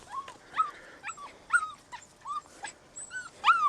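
Young lion hound puppies climbing on rocks outdoors whine and whimper repeatedly, with short high yelps and whines coming in quick bursts at moderate distance.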